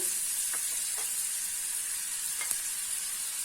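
Onions for Egyptian eggah fry in hot oil with a continuous bright sizzle, broken by a few faint stirring taps, close and steady throughout with no voices.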